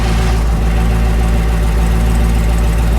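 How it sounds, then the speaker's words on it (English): A Chevy Express 3500 cutaway Class C RV engine idles just after an oil change, a loud, steady low rumble with an even mechanical drone throughout and no voices. "So now I'll just let it sit there and idle for just about a minute or so, let the oil get all up to the engine"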